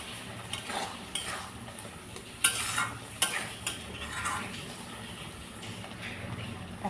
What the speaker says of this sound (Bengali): এখন গ্যাসের আঁচটা মিডিয়াম করে কচুটাকে কষিয়ে নেব ভালো করে, যাতে জল না থাকে।